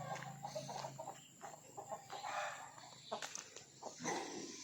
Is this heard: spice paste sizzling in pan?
no